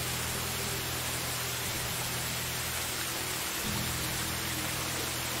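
Steady broadband hiss of rain falling in the medieval survival game Medieval Dynasty, an even, continuous wash with no talk over it and a faint low tonal hum beneath.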